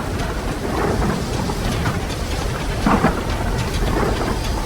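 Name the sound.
thunderstorm with rain and thunder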